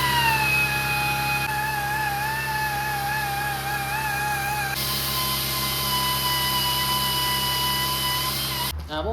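A power tool grinds down metal on a van kart build with a steady, wavering high whine that holds for several seconds, then shifts pitch and cuts off abruptly near the end.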